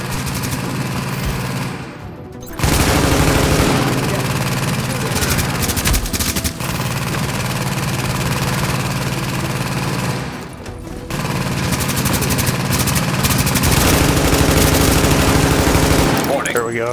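A turret machine gun fires in The Division, a dense, loud stream of automatic shots that runs in long sustained bursts, broken by brief pauses near the start and middle.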